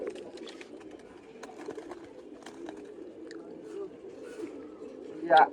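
Female pigeons in a home loft give low, soft coos that run steadily through the clip, with a brief louder flutter near the end, under someone talking nearby.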